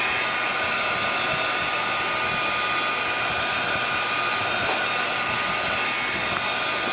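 A heat tool blowing hot air to melt embossing powder on a handmade card, a loud, steady, close-up fan whoosh running without a break.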